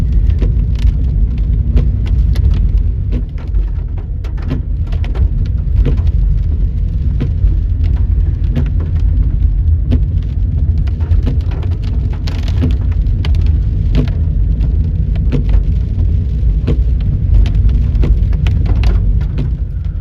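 A car driving at night through the heavy rain of Storm Ciaran in Bournemouth, UK, with a steady roar of tyres and rain over a low engine drone, and dense drops rattling on the bodywork throughout.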